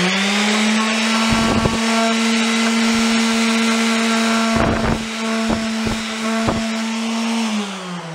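A power sander whines continuously up close, its pitch steady, with several brief bursts of harsher grinding as it bites into a wooden sword.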